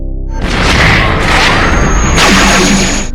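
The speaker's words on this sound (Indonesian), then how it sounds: "Tiba-tiba terdengar ledakan di atas lift yang menyebabkan lift itu terjun bebas ke bawah." A loud, booming explosion above an elevator in a film bursts and rumbles, followed by crashing debris and a sustained roar that fades at the end.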